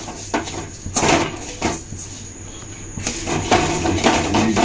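A spoon scraping and stirring a thick yogurt caramel mixture in a pan over low to medium heat, with repeated scrapes and knocks against the metal and a steady sizzle underneath.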